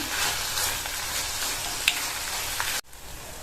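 Tomatoes for an urad dal tomato chutney sizzle and fry steadily in a pan, a continuous close hiss with faint stirring, cutting off abruptly near the end.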